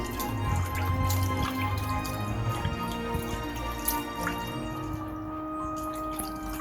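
Water drips and trickles while a watermelon rind face mask is rinsed off at home, giving a steady series of small, close splashes against a faint background hum, with no talking.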